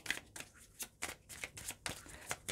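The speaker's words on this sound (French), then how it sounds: "On va venir également prendre 3 cartes du Lenormand" Lenormand fortune-telling cards being shuffled and drawn, a close, steady run of papery riffling bursts and soft slaps repeating several times a second, with no talking.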